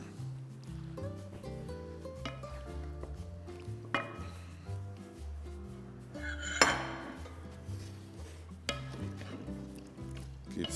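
A spoon stirs Iraqi okra stew in a cooking pot, making intermittent metallic scrapes and clinks against the pot, with one sharper knock partway through and a musical backing underneath.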